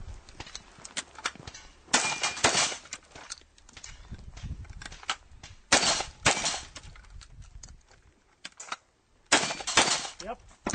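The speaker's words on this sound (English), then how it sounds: "Shoot that, Joe." Gunshots crack out in several sharp, loud bursts spread across the stretch, some in quick clusters, with quieter rustling and movement between them and someone speaking briefly.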